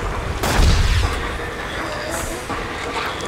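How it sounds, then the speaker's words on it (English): A flashbang going off in the video game The Suffering, a loud close boom with a deep rumbling low end followed by a ringing, fading wash of noise. "Flashbang."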